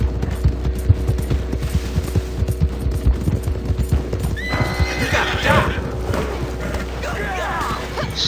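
Horse in Red Dead Redemption 2 clip-clopping steadily throughout, then neighing and whinnying loudly in the second half, with layered game ambience and a low hum beneath.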